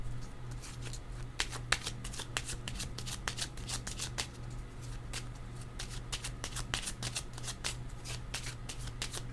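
Tarot cards being shuffled by hand in a steady run of crisp, riffling snaps and flicks, close up and continuous, over a low constant hum with no voice.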